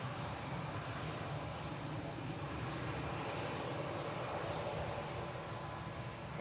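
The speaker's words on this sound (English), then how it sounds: "This is a A321 Neo, one of the newest aircraft in the fleet for Jet 2." Jet2 Airbus A321neo airliner producing a steady, loud broadband engine roar that holds constant throughout, with no talking over it.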